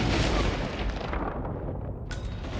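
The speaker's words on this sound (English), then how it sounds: "Oh, so that's a damn grenade." A grenade goes off in a Hitman-style stealth video game, a loud rumbling blast that fills the clip with dense low-end roar, followed by a sharp crack near the end.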